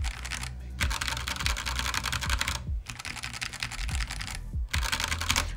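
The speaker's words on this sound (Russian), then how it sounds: "Вот нажатие приятное. Но это Silent Switch, окей." Keys clack steadily on a mechanical keyboard fitted with silent switches, a dense run of muted presses broken by two brief pauses, heard up close with no talking.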